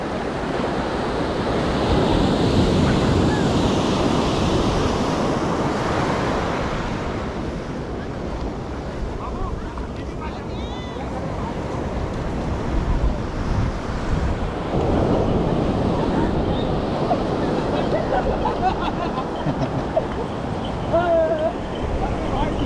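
Waves of the Arabian Sea rolling against the shore at the Somnath Temple, with wind buffeting the microphone, a loud continuous roar of surf and gusts, while a voice talks over it.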